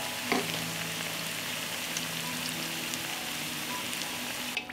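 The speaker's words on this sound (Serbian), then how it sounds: "Nakon 4 minuta prženja okrećemo na drugu stranu i nastavljamo da pržimo." Mekike dough fritters frying in hot oil after being turned, a steady close sizzle and crackle with a brief clatter near the start.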